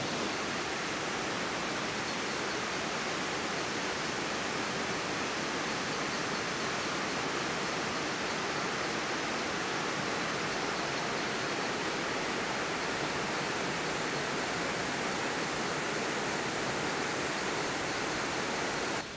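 A forest waterfall in Aurora roars as a loud, dense, unbroken wash of falling water that holds steady throughout, close by, with no voices.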